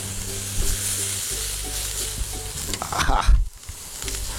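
Lemongrass chicken sizzles on a grill smoked with maple hardwood, a loud, continuous close crackle with a low rumble beneath it. A brief surge of clatter comes as the meat is turned, and someone gives a short exclamation.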